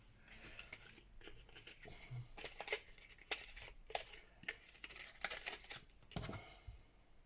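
Scissors snip through thin household cardboard from peel and match boxes, a run of sharp crisp cuts and paper rustles close by, fairly quiet, with no talking.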